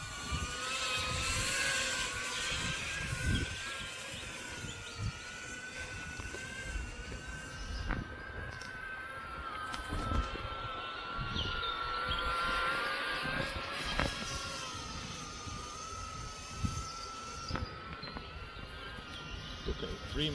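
A small drone powered by a disposable vape battery flies nearby with a steady high-pitched propeller whine that wavers as throttle changes, continuous for the whole stretch.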